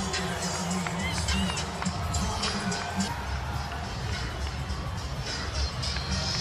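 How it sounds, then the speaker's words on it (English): A large stadium crowd at an Inter Miami football match cheers and roars for Lionel Messi in a dense, continuous wall of noise, with a voice speaking underneath. "Well, the crowd just erupted for this man right here, Lionel."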